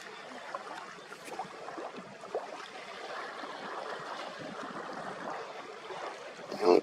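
Steady broadband water wash and trickle around a tripod standing in shallow water outdoors, continuous and close, with light rain starting and no speech.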